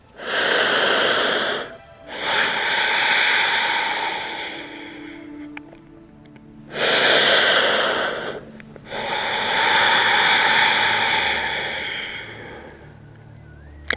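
Slow, audible breathing in child's pose during a gentle yoga practice: long, close, airy inhales and exhales in a calm rhythm with short pauses between them.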